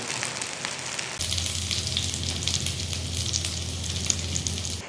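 Chicken sizzles steadily as it fries in a pan, a dense continuous crackle and hiss that swells louder after the first second, with no voices over it.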